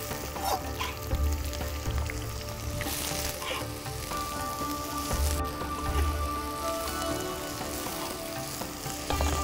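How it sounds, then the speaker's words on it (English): Onions hit hot clarified butter in a pan while cooking Sultani dal, giving a steady, close frying sizzle with occasional stirring scrapes throughout. "Now you should add the onions in it. So just transfer the onions first."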